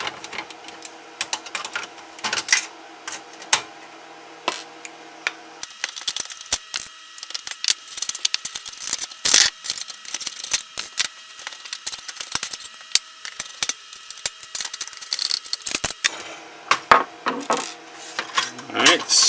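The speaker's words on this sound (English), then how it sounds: "a little pair of needle nose will help you get those out" Screws are worked out of the metal shielding of a Sega Genesis console with needle-nose pliers, giving close, irregular metallic clicks, scrapes and small taps in bursts, with no talk.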